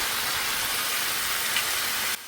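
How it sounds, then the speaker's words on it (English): Shashlik sauce poured onto a hot sizzler plate at a get-together party gives a steady, loud broadband hiss that holds evenly for a couple of seconds before dropping off abruptly. "And this is the way it sizzles."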